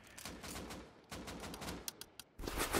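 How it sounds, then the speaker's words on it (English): Bursts of gunfire in the console video game Rust, with rapid volleys that start and stop over a few seconds, loud and sharp, plus a few isolated shots. No voices. "He's shooting. Who's he shooting?"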